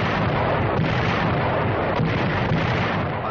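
Allied artillery guns opening fire on German-held heights along the Italian front in WWII, a dense, continuous roar of distant gunfire with faint thumps in a steady rumbling wash, no voices.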